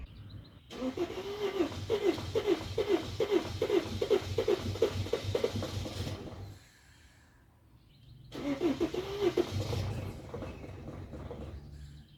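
A Sprinter van's engine, rusty after long storage, cranks in a rapid rhythmic chugging that runs for several seconds, stops, then cranks again in a second shorter burst, loud and close with no talk.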